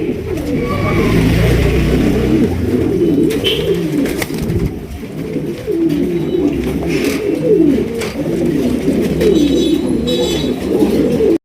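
Lahori pigeons cooing steadily in a loft, several birds overlapping in a continuous low, rolling chorus that stays loud and close throughout, with no talking.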